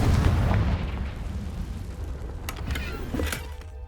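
A Confringo fire spell detonates in Hogwarts Legacy with a heavy rumbling blast that fades into a crackling, debris-filled tail and a few sharp pops, loud and close with no speech.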